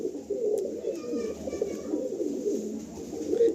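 A male pigeon coos in a loft, low throaty rolling calls repeating close by across a few seconds, with faint chirps from other birds in the background.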